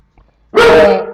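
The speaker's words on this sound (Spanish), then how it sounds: "mi perro que está ladrando" A dog barks once, loud and close, a single sharp woof that follows a brief quiet moment.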